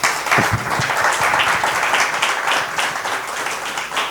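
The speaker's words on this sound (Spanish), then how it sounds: "guardad los aplausos por si no os gusta la presentación" Applause from an audience at a global health and human rights talk greets the incoming speaker, a steady wash of many hands clapping that stays fairly loud and fades slightly toward the end.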